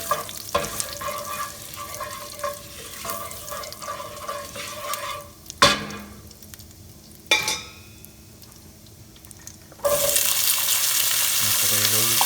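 Potatoes hit a pan of toasted cumin seeds, bringing a steady close sizzle and frying hiss with scraping stirs and a few clanks, ending in a loud, broad burst of frying.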